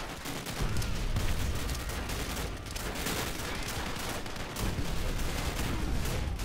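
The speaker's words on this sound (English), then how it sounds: "Ah, I'm getting shot from everywhere." Dense gunfire fills a World at War campaign battle, continuous bursts and shots from many directions with a loud, steady wash of combat noise and no talk.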